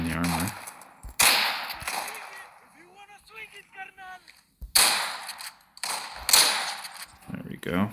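Shotgun blasts from the tactical shooter game Arena Breakout, several loud sharp reports spaced through the clip, with someone speaking at moments between them.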